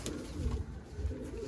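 Teddy and golden breeder pigeons, kept as pairs on a rooftop, coo in soft low rolling calls, two or three repeated phrases close by.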